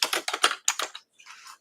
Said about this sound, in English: Keyboard doesn't want to type.